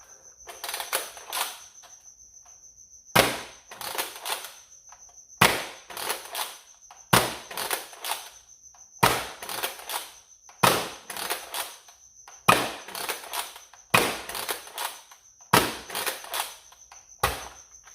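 A modded toy foam blaster fires a string of rounds in about ten short rapid clattering bursts, each a dense flurry of sharp clicks with brief quiet gaps between, close and fairly loud over a faint steady high tone.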